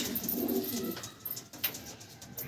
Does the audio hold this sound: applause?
no